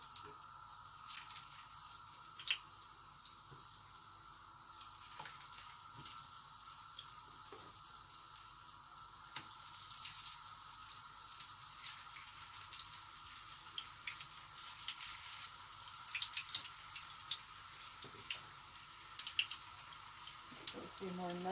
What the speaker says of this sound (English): you know it's warm when you put a potato in and start sizzling